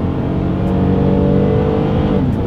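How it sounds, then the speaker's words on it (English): A 2022 Toyota Highlander with a naturally aspirated engine accelerates hard from inside the cabin, a loud steady engine drone rising in pitch through the gears. "let's see how quickly we can get our new 2022 Highlander here up to speed"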